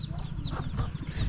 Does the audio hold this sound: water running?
no